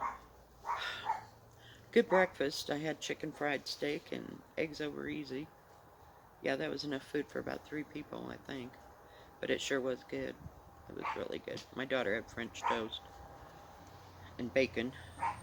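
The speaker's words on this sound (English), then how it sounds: "Sorry about the dog barking." A dog barks in short bursts during an outdoor conversation, the barks mixed under steady talking from a woman describing a meal.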